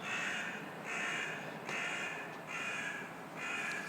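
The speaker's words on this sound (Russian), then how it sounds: "Летают вороны." Crows caw outdoors in a series of harsh, repeated calls, about four bursts at a steady rhythm, moderately near, over a constant background hum from a city street near the metro.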